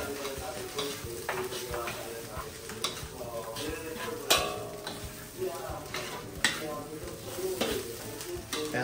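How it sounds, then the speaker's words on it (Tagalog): Tinapa (smoked fish) flakes sautéing in a pan for pansit palabok, a continuous soft sizzle broken by frequent scraping stirs and sharp utensil knocks against the pan, close by. "isangag nyo muna itong tinapa flakes para mas lalong maging napakalasa"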